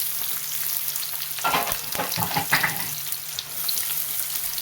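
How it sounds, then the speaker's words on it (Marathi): Onion and garlic fry in a pan for a rustic safflower greens dish, a steady close sizzle with bursts of scraping and stirring in the middle, with no one talking. "कांदा पण चांगला परतून घ्यायचा लसूण कांदा तांबूस होईपर्यंत"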